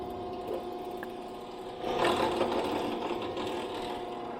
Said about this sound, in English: The outlet pump just turned on